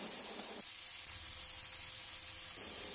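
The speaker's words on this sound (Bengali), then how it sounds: "আর এবার কাটা সবজিগুলো দিয়ে দিচ্ছি" Cut vegetables tipped into a large hot kadai with oil give a steady, loud hiss of frying that swells suddenly and holds for about two seconds before easing, with no voices over it.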